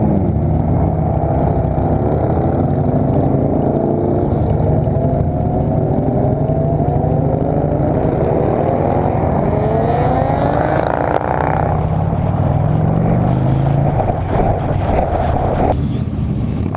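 Harley-Davidson motorcycles, a Fat Boy and a Road King, ride together at a meetup in Salina, Kansas, with loud, steady engine drone and heavy wind rush throughout, the rumble shifting in pitch as they change speed.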